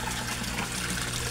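Resun aerator pump bubbling into a three-foot-deep koi pond, a continuous close gurgle and watery trickle with no pauses.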